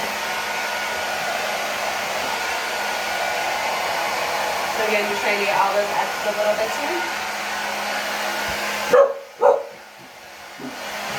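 A hair dryer blows on long curly hair with a steady, loud whooshing roar that cuts off near the end. A dog yips and whimpers in the background, and someone talks over the noise.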